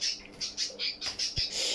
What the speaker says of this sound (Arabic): جي اللقيط بيحاول يصطاد عصفور